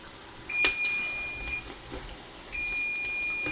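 Kitchen timer going off while homemade bread bakes, two long, loud, steady electronic tones with a gap between them, plus light kitchen clatter in the background.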